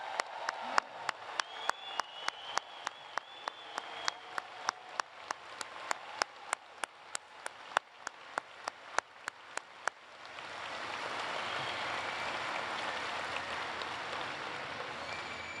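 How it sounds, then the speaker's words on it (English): At a university commencement ceremony, a steady train of evenly spaced sharp claps or ticks runs for about ten seconds before broad, sustained crowd applause for the standing graduates takes over, fairly distant and soft. "bring the house down and truly applaud their accomplishment"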